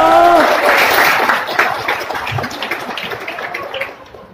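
An audience at a company thanksgiving party in an events place claps for a colleague's promotion, a dense wash of applause that starts loud and gradually thins into scattered claps as it fades.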